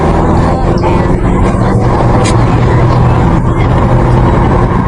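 A car accelerates hard along a road, caught on a dashcam as a loud, steady roar of engine and tyre noise that holds without a break.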